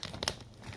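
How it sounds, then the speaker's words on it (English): A plastic packet of sliced provolone cheese is handled with a brief, faint crinkle and one sharper rustle, close by in a quiet kitchen at night. "Excuse me while I struggle with the bag,"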